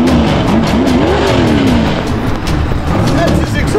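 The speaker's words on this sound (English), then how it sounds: "That's his exhaust." A race car's engine revs hard with a roaring, rising exhaust note close by at a track, loud and continuous, with people talking over it.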